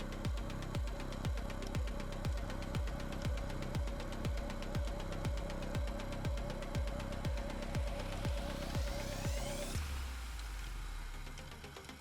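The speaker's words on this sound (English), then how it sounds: "You don't see a 24-horsepower Honda engine on a snowblower every day." A custom 45-inch snowblower built from parts of three machines, powered by a 24-horsepower Honda engine, runs close and loud with a steady rhythmic thumping beat that cuts off near the end.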